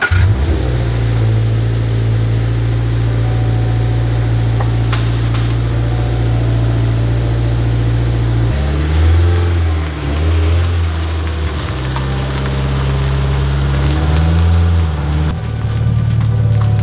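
A modified 2022 Subaru BRZ engine drones at a steady, loud idle, then its note wavers and climbs through several uneven revs, close and dominant throughout.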